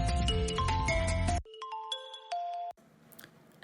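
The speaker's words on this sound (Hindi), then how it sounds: "इसका फोन बज रहा है" A mobile phone ringtone plays a loud, fast melodic run of tones, then a sparser run of repeated notes, and cuts off abruptly, leaving a quiet room.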